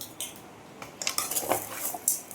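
Chicken being mixed with salt in a pot for a chicken gravy, a spoon clattering and scraping against metal in irregular close knocks that grow busier toward the end, with no talking.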